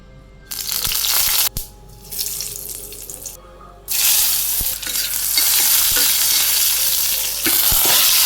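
Vegetables and green chillies hit hot oil in a Bangladeshi home kitchen, bursting into a loud, steady frying hiss after brief clatter and quieter stirring, sustained to the end.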